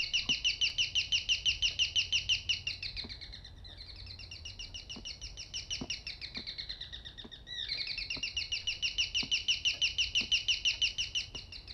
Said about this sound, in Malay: Suara burung ya?